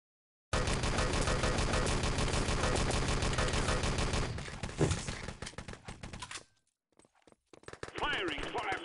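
Sustained automatic weapon fire in the online shooter Enemy Territory, dense rapid bursts that continue for several seconds, then break into sparser shots and a brief lull before more firing with a voice over it.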